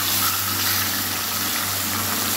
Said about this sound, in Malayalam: പുളി ഒഴിച്ച് കൊടുക്കുക